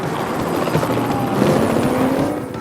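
Several police helicopters pursue a chase overhead, their rotors a continuous loud, throbbing drone with no voices.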